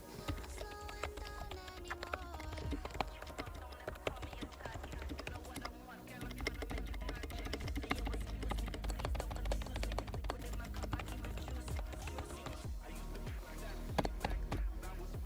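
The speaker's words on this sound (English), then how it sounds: "I know I said you couldn't really hear this keyboard, but if I type super hard" A YUNZII D98 membrane keyboard is typed on hard, giving a steady stream of dull, muffled key taps at close range, with a voice talking over parts of it.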